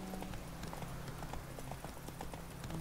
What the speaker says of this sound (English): So we're just going to gallop our way over there.